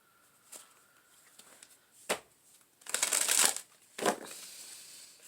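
Fairy tarot cards are shuffled in a few separate bursts, with soft riffling and crisp slapping close by. Each burst is brief, and faint room noise sits between them. No one speaks.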